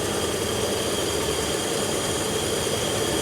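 A 1950 Cadillac engine, revived after sitting for 42 years, idles steadily nearby with an even, smooth low rumble and faint mechanical vibration, no voices over it.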